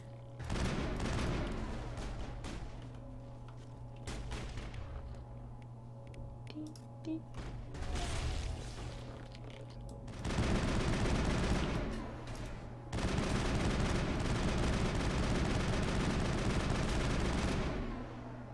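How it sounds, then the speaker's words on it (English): Assault rifle fire in the Mass Effect video game comes in several loud, dense bursts of rapid shots, with quieter gaps between them and a steady low hum from the game underneath. "I didn't expect the assault rifle to be so accurate and stable."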